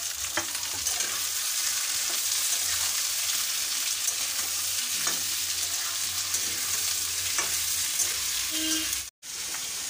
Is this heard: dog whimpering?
no